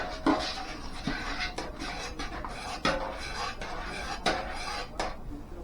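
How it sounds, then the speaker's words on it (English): A spoon stirs boiling dandelion jelly in a pot, making repeated scraping and clinking strokes against the metal over a steady bubbling background; no one speaks. "And just stir a little bit"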